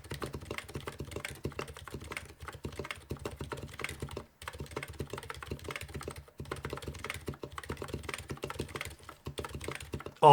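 Fast, steady typing on a full-size custom EC mechanical keyboard with freshly lubed, fixed stabilizers, dense close-up clacks in an even rhythm with two brief pauses and no talking.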